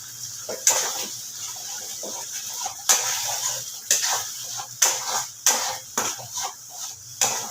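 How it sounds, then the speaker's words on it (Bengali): Sour yogurt whisked in a bowl with quick, rhythmic spoon strokes, each a sharp close tap or scrape, repeated about a dozen times over a faint background hum. "টক দইটা আমি একটু ফেটিয়ে নেব"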